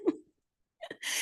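A single short sneeze during a committee hearing in a quiet room, followed a moment later by a brief sharp intake and rustle.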